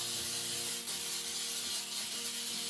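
Cooking spray hisses continuously and fairly loudly onto a cake pan, close up, with faint rubbing underneath and no voices.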